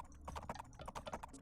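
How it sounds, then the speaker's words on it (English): Horse hooves clip-clop in a Vikings real-time strategy game, a steady run of light, rhythmic hoof taps close up, heard alone without talk. "Oh, there's even a horse."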